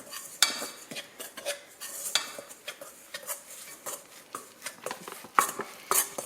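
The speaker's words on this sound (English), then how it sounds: "And I have this that I'm just going to stir." A spoon stirs stiff, elastic vegan salami dough in a bowl, a close rhythmic run of soft clacks and squelching scrapes against the sides.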